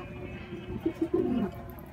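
Racing pigeons arriving at a loft trapdoor after a 155 km club training flight, with a few soft, low coos heard close by over quiet background.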